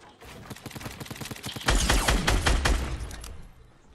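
Enemy gunfire in the Fortnite video game: rapid bursts of shots crack in quick rhythmic succession, growing louder and denser midway before trailing off.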